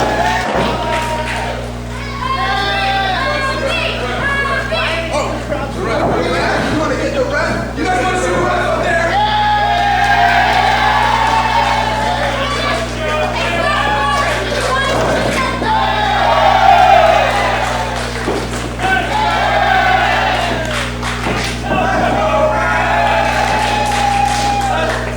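A crowd at a live wrestling event cheers, shouts and whoops steadily throughout, a dense roar with rising swells of yelling and a sustained low hum underneath.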